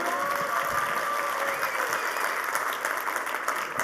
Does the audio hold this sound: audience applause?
yes